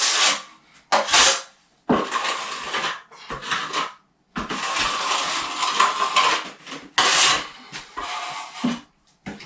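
A plastering trowel scraping and smoothing plaster across a wall, in long rasping strokes broken by short pauses, loud and close.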